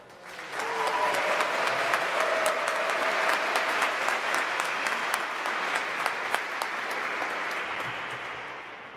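A large audience at a combined Air Force and Navy ROTC commissioning ceremony applauds a newly commissioned second lieutenant, a loud, sustained wash of clapping that swells quickly and fades gradually over about nine seconds.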